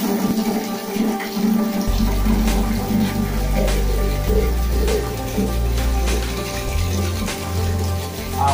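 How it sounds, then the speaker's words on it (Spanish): Water runs steadily from a tap while washing clothes, a continuous rushing flow with a low rumbling fill tone that deepens partway through, no talk. "Agua."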